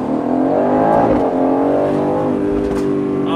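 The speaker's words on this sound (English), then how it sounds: "Oh, there are some pops." A 2021 Aston Martin Vantage Roadster engine drones loudly and steadily from inside the car with rising and falling revs and a few faint crackles.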